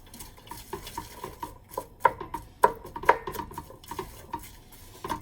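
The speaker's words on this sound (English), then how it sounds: "Now we're gonna give it a nice stir." A utensil stirs garlic and onions in olive oil in a pot, with soft rhythmic scraping and a few sharper clinks against the metal over a faint sizzle.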